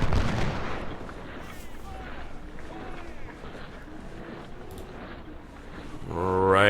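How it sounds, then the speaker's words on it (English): Musket volleys in the Civil War strategy game Ultimate General: Civil War, a rumbling crackle of massed gunfire lasting through the clip, heavier at the start, with voices talking over it. "oh, the muskets go off"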